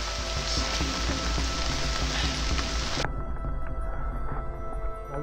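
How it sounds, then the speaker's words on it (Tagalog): Heavy rain pours steadily on a mountain traverse trail, a dense, loud wash of drops close by. Partway through, the brightest hiss drops out while the downpour keeps roaring. "Lakas na naman yung ulan."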